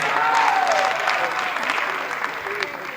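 An audience at a live comedy show applauds, a dense burst of clapping that starts loud and slowly thins out, with a voice briefly heard over it.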